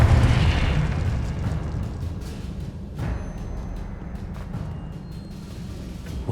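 A Confringo blasting spell goes off in Hogwarts Legacy with a loud booming burst, its rumbling explosion decaying over several seconds with lighter crackles and a second softer impact midway.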